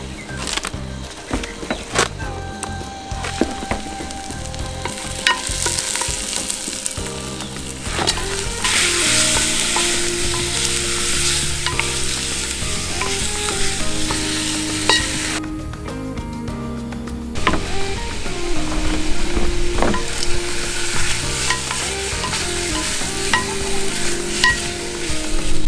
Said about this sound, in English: It's time to brown the meat.